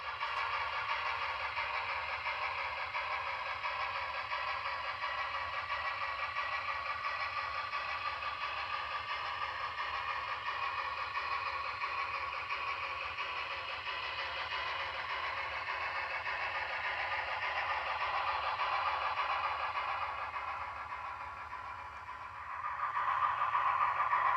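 An N scale Broadway Limited Heavy Mikado model steam locomotive hauls seventeen covered hoppers up a 1% grade and around curves on a layout, giving a steady, continuous mechanical hum and rumble that swells slightly near the end.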